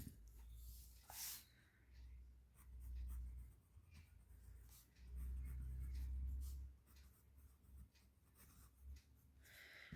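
Marker or chalk scratching across a board during a maths lesson, strokes coming in uneven bursts with low rumbling pauses between, close and faint, with no talk over it.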